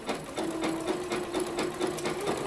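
A home sewing machine stitches knit sweat shorts in a steady, fast mechanical whir with rapid needle clatter, close and continuous with no voices.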